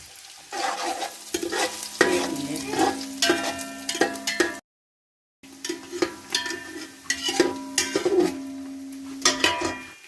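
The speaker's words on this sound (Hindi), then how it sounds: "और अब ये दरमियाने साइज़ की प्याज है, ये हम इसको करेंगे फ्राई।" Medium onions fry in hot oil, sizzling steadily while a utensil stirs and scrapes the pan in repeated strokes, with a short silent gap midway.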